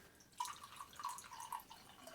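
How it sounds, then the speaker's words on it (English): Water being poured into a glass of flat soda in a kitchen: a thin, close trickling stream with light bubbling and gurgling splashes, quiet and steady, without any talk. "So now we're just going to add water"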